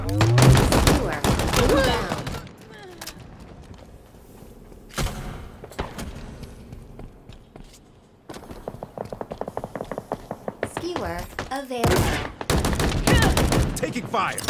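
Gunfire and combat noise in Halo Infinite, loud bursts of shots and impacts coming in clusters with quieter stretches, including a rapid run of repeated shots, with voices heard at times.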